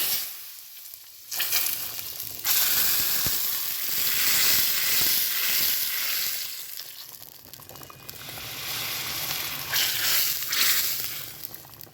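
Asafoetida tempering poured into a pot of boiling egg curry, bursting into a loud hissing sizzle after a quiet moment, then a steady crackling fry that swells and eases over several seconds, near and without speech.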